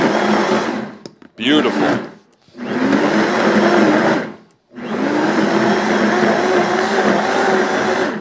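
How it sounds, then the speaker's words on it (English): A Vitamix XL blender grinds ground meat, its motor roaring loud and steady in long bursts, cutting out into brief gaps and restarting, with a tamper pushing the mix down; a voice speaks briefly. "Take my tamper, just kind of get that meat blended back in."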